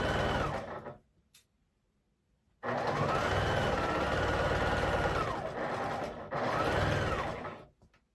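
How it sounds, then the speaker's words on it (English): A sewing machine joins quilt pieces for a quilt assembled on point, running in long, close, loud whirring stretches with a rhythmic mechanical chatter and brief stops between seams. "we are going to sew this one across"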